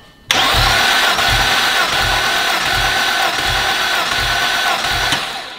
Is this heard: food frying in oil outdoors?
no